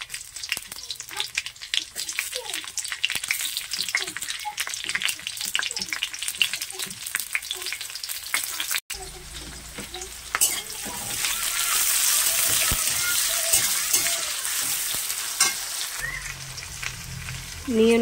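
Green chillies and onion frying in a pan with radhuni seeds, crackling sizzle with intermittent stirring clatter, followed by a steadier, hissing fry with occasional utensil knocks, close and fairly loud.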